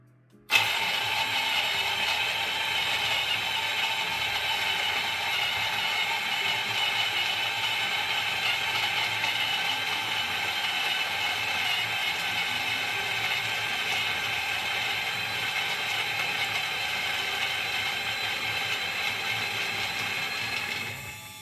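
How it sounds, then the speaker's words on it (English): An electric coffee grinder, a Niche Zero or Starseeker E55, grinds 18 grams of coffee beans with a steady, loud mechanical whir and crunch that runs unbroken for about twenty seconds and then stops. "Let's see how long time will it take to grind the 18 grams."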